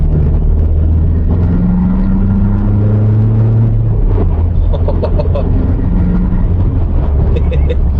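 A turbocharged car accelerates while being driven, its engine drone rising and shifting in pitch under steady road rumble from inside the cabin, with someone talking over it.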